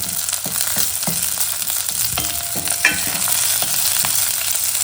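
Thalippu vadagam fries in oil with a continuous sizzle, broken by a series of sharp scraping and knocking stirs against the pan, close and fairly loud.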